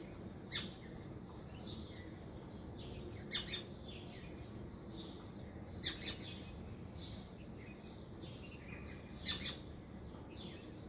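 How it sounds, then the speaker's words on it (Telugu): Birds call in the early morning around a garden, sending out scattered short chirps and tweets every few seconds, fairly distant and faint over a low, steady background hush. "అన్ని బర్డ్స్ ఇప్పుడే లెగుస్తూ ఉంటాయి, చక్కగా అరుస్తూ ఉంటాయి ఎర్లీ మార్నింగ్"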